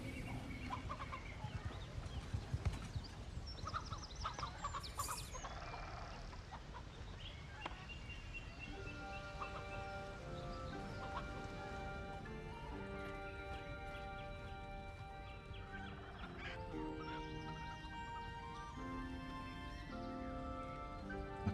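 Horses in a video game town clop and whinny alongside clucking chickens, with steady hoofbeats and scattered animal calls over a soft background.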